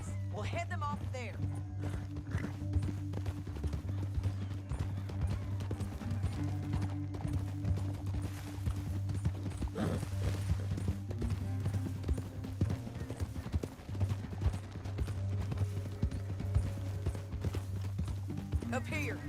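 In Red Dead Redemption 2, steady clip-clop of horse hooves at a trotting rhythm under a low droning music bed, with occasional voices talking over it.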